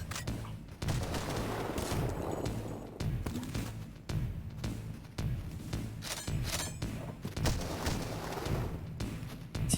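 Rapid gunfire rattles through a firefight in the video game Cultic, with dense overlapping bursts, thuds and crashes continuing for several seconds at a loud, fairly even level.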